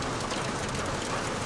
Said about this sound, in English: you'll hear a little bit of hail now